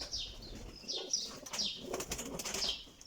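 Pigeon wings flap in several quick bursts, close by, with a few faint chirps between them and no talking.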